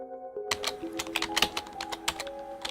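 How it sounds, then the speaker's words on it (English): Visual novel keyboard typing effect from I/O: after a brief stretch of tonal music, a cluster of crisp, fairly loud key clicks starts and continues irregularly over the music. "Drawn in by it, I start typing."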